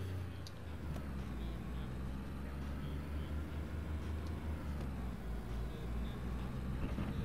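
A video game car engine drones loudly at high speed, a constant dense roar with no breaks.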